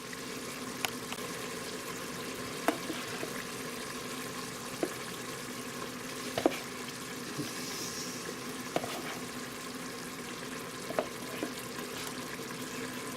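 Unsweetened cocoa powder being stirred into chili in an Instant Pot, faint soft scraping under a low background hiss, punctuated by occasional light clicks of the spoon against the pot.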